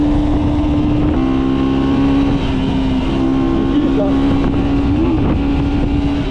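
A 2025 KTM Duke 125 motorcycle engine idles and revs steadily up close, its droning tone rising and dipping slightly, with wind noise and faint voices nearby.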